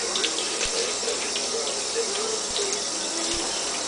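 Steady rush of running water from a tap as unscented homemade soap is rinsed off hands, continuous and close for a few seconds with faint splashing.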